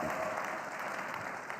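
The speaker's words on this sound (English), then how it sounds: "you can clap if you want to" An audience claps steadily at a master class, a dense, even wash of applause with faint crowd murmur underneath, sustained without a break.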